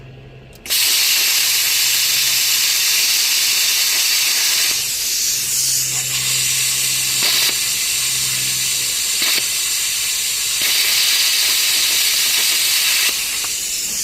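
An ARCCAPTAIN Cut55 Pro non-touch pilot arc plasma cutter hisses loudly and steadily as it slices through metal, a harsh continuous rush lasting over ten seconds with slight surges and a faint low hum.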